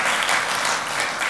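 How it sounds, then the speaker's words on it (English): Steady audience applause fills the hall at a college student conference keynote, a dense, continuous wash of clapping at close range with no break across its short span. "give a round of applause"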